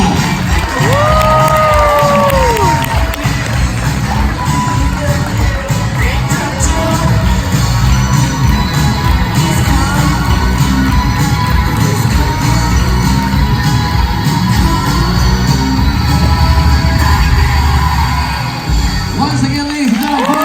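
A cruise ship audience aboard Royal Caribbean's Mariner of the Seas cheers, shouts and screams for the ice show cast, a loud sustained crowd roar with whoops and a host's amplified voice in places.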